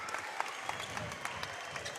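Hometown crowd at a basketball game giving an ovation, faint scattered clapping heard from a distance under a quiet hall ambience.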